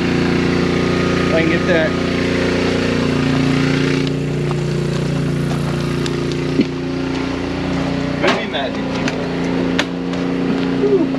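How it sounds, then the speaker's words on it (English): A generator runs outside a 2020 Flagstaff MicroLite 22TBS RV, a loud steady engine drone close by, while a person talks briefly over it. "So we'll go in and get out of the heat and away from the generator."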